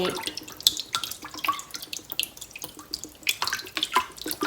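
Liquid pours and splashes in a kitchen as vinegar is added to salted pickling liquid for apples, a close, continuous watery trickle with small drips, no voices.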